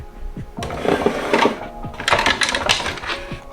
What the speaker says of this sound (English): Then we're gonna unscrew these 3 screws.